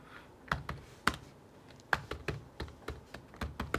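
Keystrokes on a computer keyboard as a program comment is typed, a string of close, crisp clicks in uneven bursts with short pauses, with no talking.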